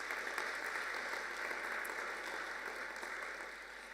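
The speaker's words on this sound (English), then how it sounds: "So big applause for TUM Speaker Series" An audience at a university speaker series on the future of Europe applauds in a steady, even wash of clapping that carries on throughout and eases slightly toward the end.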